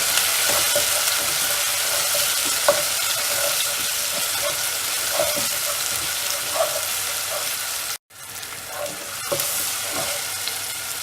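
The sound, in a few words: frying onions and tomato in a pan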